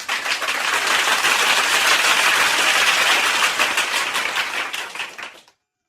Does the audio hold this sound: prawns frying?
no